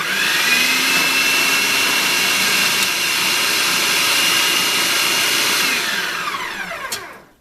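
A Hamilton Beach 70670 Chef Prep 525-watt food processor whirs loudly and steadily while its standard cutting blade slices a carrot, the motor's high whine holding for about six seconds before spinning down and stopping.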